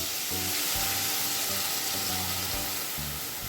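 Water is poured into a hot pan holding fried tomato and a mustard, green chilli and salt paste, setting off a loud, steady hiss of sizzling steam close by.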